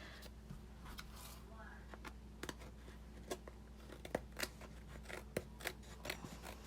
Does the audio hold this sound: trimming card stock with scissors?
yes